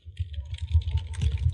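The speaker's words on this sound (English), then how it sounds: "That's some epic typing right there." Fast typing on a computer keyboard with the microphone right beside it, a close, rapid clatter of key presses in an irregular burst, heard alone.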